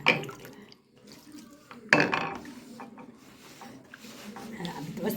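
Warm water poured into a bowl while making sausage pizza dough, a splashing trickle with clinks of a dish under someone speaking.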